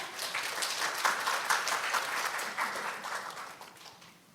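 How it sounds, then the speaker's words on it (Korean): An audience at a Qlik data analytics conference applauds to welcome a presenter, a full, even burst of clapping that holds steady and then tapers off toward the end, with no talk over it. "여러분 박수로 맞이해 주시기 바랍니다"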